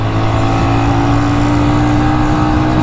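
An old Bajaj Discover 135 motorcycle engine revs hard and pulls up to speed, a loud, steady droning roar held close throughout with a clear rising tone.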